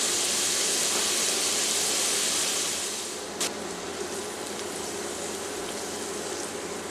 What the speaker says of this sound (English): We just finished sauteing the vegetables